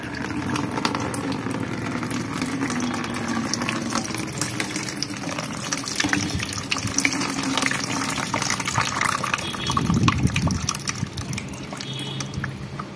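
Water pours and gushes out of a container as soaked white sandalwood seeds are drained, a close, continuous splashing flow that briefly surges louder near the end.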